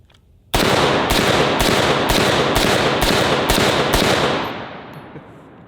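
A 50 Beowulf AR-15 empties a magazine in rapid fire, about eight loud close booming shots in quick even succession, followed by a fading echo.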